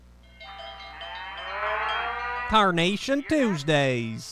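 Charolais and Angus breeding cattle moo loudly in a radio advertisement, a sustained low lowing call followed by several shorter, closer moos, with a faint voice underneath.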